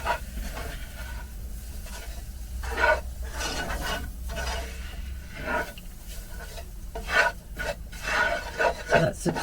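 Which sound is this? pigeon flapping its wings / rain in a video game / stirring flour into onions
stirring flour into onions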